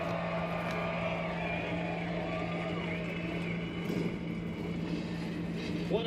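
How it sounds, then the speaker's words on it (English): NASCAR race car engines idle together at Michigan International Speedway, a steady loud droning rumble with a constant low hum that persists throughout, overlaid by a crowd and a public-address voice in the background. "The engine's fired up here at Michigan International Speedway."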